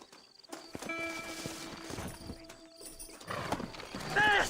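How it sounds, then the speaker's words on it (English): Horses' hooves clip-clop and gallop in the Red Dead Redemption video game, mixed with a whinny, jingling tack and western game ambience, moderately loud and continuous with talk faintly underneath. "Horses are over here!"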